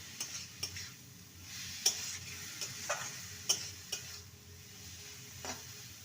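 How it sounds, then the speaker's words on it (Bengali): A cauliflower paste cooks on medium heat in a pan as a spoon stirs it continuously, giving soft sizzling under a series of light scraping taps against the pan, close and quiet. "ফুলকপির পেস্টটাকে অনবরত নেড়ে যেতে হবে যতক্ষণ না এটা ভালো মতো রান্না হয়ে যায়"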